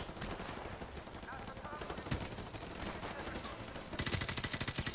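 Video game gunfire in Call of Duty Modern Warfare Remastered: dense bursts of rapid automatic shots with scattered single cracks, heavier and louder toward the end, under faint voices.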